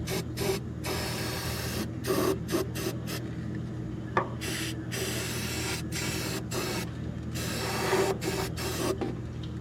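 Permatex rust treatment coating sprayed heavily onto the bare metal shock towers and inner fenders of a 1969 Mustang, heard as repeated short aerosol bursts with brief gaps, close and steady over a low background hum.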